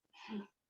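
A single short, soft sneeze, muffled and brief, with quiet surroundings.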